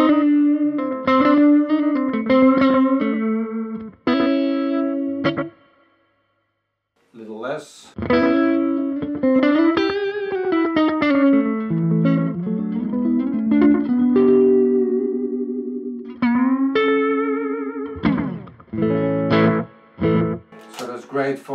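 An electric guitar plays melodic phrases through a NUX analog delay set to slapback, a short single echo trailing each note, giving a snappy doubled attack; no voices are heard.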